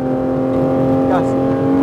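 A 2021 Porsche 911 GT3 RS accelerating on the Homestead-Miami Speedway track, a loud, close engine drone holding a strong steady tone that rises slightly, under a voice talking.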